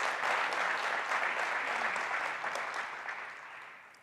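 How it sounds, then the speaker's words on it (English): Audience at a Lancaster State of the City event applauding, a broad sustained wash of clapping that holds steady and then slowly tapers off, with no talk over it. "Let's give that a round of applause."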